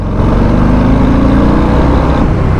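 A loud Harley-Davidson 2024 Breakout 117 motorcycle engine runs and revs steadily, a deep continuous rumble close by with no pauses.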